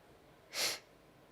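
A person gives a single sharp, fairly loud sniff lasting about a quarter second, standing out alone against a quiet room background.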